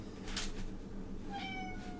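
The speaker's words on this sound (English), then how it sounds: "That's a cat." A domestic cat meows once or twice nearby, a short clear call standing alone over quiet room background.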